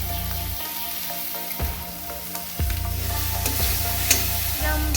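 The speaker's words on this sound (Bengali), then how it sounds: "এবার আমরা এর মধ্যে দিয়ে দিলাম ওই নারকেল বাটাটা।" Coconut paste hits hot oil with a loud, dense sizzle, crackling continuously and flaring in a few sharp bursts as it is stirred, for a Bengali coconut prawn curry.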